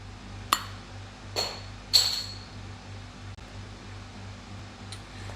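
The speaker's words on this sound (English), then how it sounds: "Love the way the beer bottle makes a noise off the side of the toolbox." A beer bottle knocks against the side of a toolbox three times in quick succession, giving sharp glassy clinks over a steady low mechanical hum, with no one talking.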